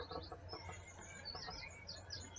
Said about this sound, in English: Sad pigeon, always having to give way to our footsteps on the platform.